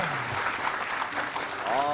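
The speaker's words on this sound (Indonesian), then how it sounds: "tepuk tangan semuanya" A room of studio guests claps together on a television talk show, a brief burst of applause mixed with voices talking over it.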